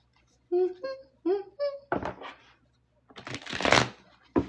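Cards are shuffled in two quick riffling bursts, close and crisp, after a brief vocal hum or moan at the start.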